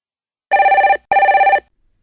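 A telephone rings twice in clean double bursts, each a bright warbling trill about half a second long, loud and close against silence.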